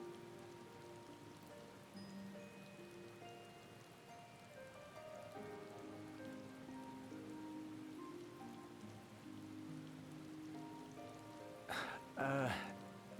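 Rain falls in the video game Final Fantasy XIV, a soft steady patter beneath layered ambient music tones, followed near the end by a couple of sharper, louder splashy sounds.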